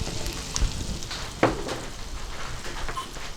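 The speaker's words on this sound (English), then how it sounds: "First I will put garlic inside to fry, and then I will put little ginger in it and let it get" Garlic and ginger frying in a pan make a steady close sizzle, with a few sharper clinks and stirring knocks from the pan.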